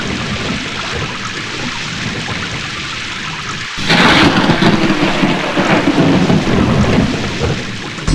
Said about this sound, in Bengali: বিদ্যুৎ ঝলকানির পরই কেন বজ্রপাত হয়?